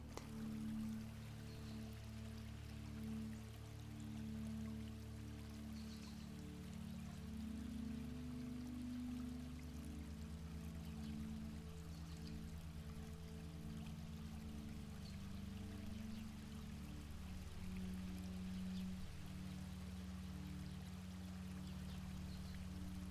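Gentle, soft water flowing steadily in a calm meditation soundscape, a faint continuous trickle under a low, sustained tonal background, no voices.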